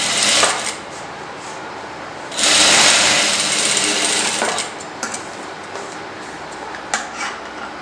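A sewing machine runs top-stitching on a blouse for a skirt or lehenga, with a long steady burst of needle clatter in the middle and a few short stitching runs before and after.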